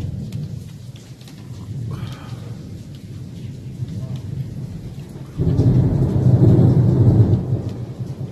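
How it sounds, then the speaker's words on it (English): Thunder rumbling through a heavy rainstorm at Sharm, with steady rain hiss throughout and a louder, deeper roll of thunder building in the second half. "it's lightning and thunder on February"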